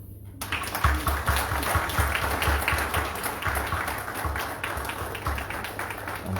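An audience applauds steadily and loudly at the formal commissioning ceremony of Liberia's Chief Justice, with dense, continuous clapping that fills the hall from start to finish.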